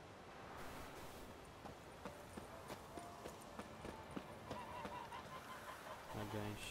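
Geese honking in The Witcher 3 video game, scattered nasal honks and clattering hoof-like clops over a busy low game background, fairly quiet, with speech in places.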